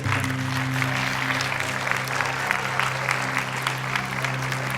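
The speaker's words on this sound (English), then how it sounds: "Can I have a big round of applause?" Steady applause from an audience fills the whole stretch, a dense continuous patter of clapping with a low hum underneath.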